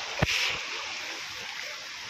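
A hidden jungle waterfall rushes in a steady, broad roar, with a short splash or knock early on and no speech heard.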